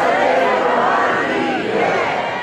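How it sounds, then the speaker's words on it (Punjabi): A large Sikh congregation at a religious gathering shouts a jaikara war cry in unison, a loud, dense roar of many voices that carries without a break. "ਉਹਦਾ ਜਕਾਰਾ ਬੋਲਦੇ ਹੋ ਗੱਜ ਵੱਜ ਕੇ"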